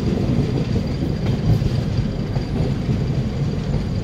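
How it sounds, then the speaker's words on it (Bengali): Rumbling of a superfast express train pulling out of platform 21 at a large Indian station, a steady low rolling roar with faint wheel clatter throughout, fairly loud and continuous. "21 নম্বর প্ল্যাটফর্ম থেকে ট্রেনটা এখন বেরোচ্ছে"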